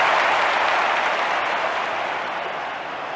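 Sustained applause from a large stadium crowd at the London 2012 Olympics, cheering a Canadian athlete who has taken the lead, steady and dense throughout, fading slightly toward the end.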